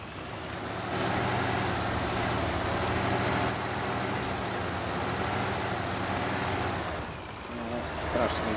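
Loud tractor engine in Farming Simulator 19 while ploughing a field, a steady heavy droning rumble that holds constant throughout with a slight dip near the end.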